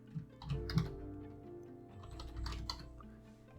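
Typing on a computer keyboard while configuring a server, a quick run of light key clicks at close range over a steady low background hum.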